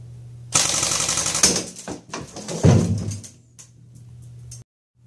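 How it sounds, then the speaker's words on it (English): Airsoft gun on full auto firing at a mannequin on a ceiling-mounted 3D target dropper, a loud dense burst of rapid shots lasting about two seconds, then scattered clatter and thumps fading out. "We're using less than lethal airsoft set on auto, but can be used with live fire."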